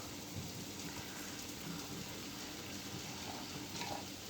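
Beef pieces sizzle steadily in a hot pan while cooking for an English breakfast, a dense, even crackle and hiss that carries on without pause at close range.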